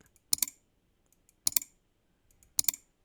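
Three crisp double clicks, evenly spaced about a second apart, sharp and close against near silence, like a button press sound effect.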